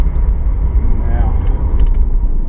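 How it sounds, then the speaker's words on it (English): A 1990 Nissan Skyline R32 GTS-4 rolls along during a brake test, giving a steady low road and engine rumble heard from inside the car for a couple of seconds. "just going to give a brake test"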